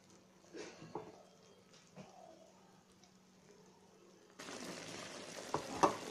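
Soft bubbling and sizzling from a pan on low heat as a shahi tukda mixture with bread pieces simmers, with occasional scrapes of stirring; the sound grows louder and denser toward the end.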